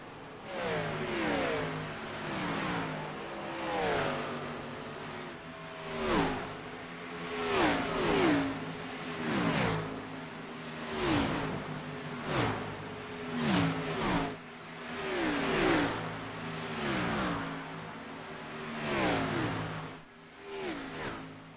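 Race car in a racing video game at Texas Motor Speedway, the number 97 machine, lifting off and decelerating: repeated engine revs rising and falling in a steady cycle of downshifting blips, loud and continuous without talk.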